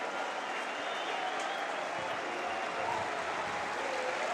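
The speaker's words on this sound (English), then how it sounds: "I think the applause is for Arturo Vidal, one of the players warming up." Steady stadium crowd applause at Barcelona's ground during a Barça versus Mallorca league match, greeting a substitute warming up; dense, continuous clapping from a large crowd at an even level throughout.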